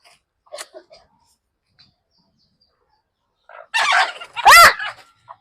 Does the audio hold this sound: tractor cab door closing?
no